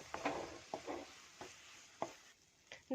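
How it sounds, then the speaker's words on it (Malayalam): A thickening sweet snack mix is stirred in a frying pan, with a steady run of scraping strokes against the pan and faint sizzling underneath. No one speaks. "ഇളക്കി കൊടുത്തിട്ട് വീണ്ടും നല്ലൊന്ന് കട്ടിയായിട്ട് വരുന്നത് വരെ ഈ മിക്സ് നന്നായിട്ട് ഇളക്കി നിങ്ങൾ എടുക്കണം."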